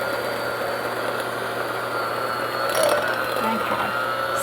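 An electric mixer whirs steadily while beating low-carb pumpkin muffin batter of cream cheese, butter and brown sugar substitute, a constant mid-level hum with a slight rise partway through.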